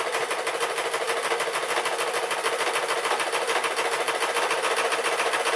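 A sewing machine stitches a pink dress with a steady, fast, bright rattle that runs evenly and continuously from start to finish.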